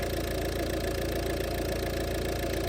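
A Ford engine running steadily, a continuous close-up drone that stays even in level throughout, with nothing else heard over it.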